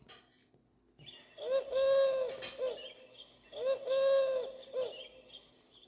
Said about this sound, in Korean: 숲비둘기 노래소리가 들리나요?